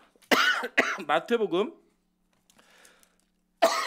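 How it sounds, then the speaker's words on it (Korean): Two sharp coughs burst out close up, followed by a person speaking briefly, then quiet before another voice starts. "그때부터 기침을 해요"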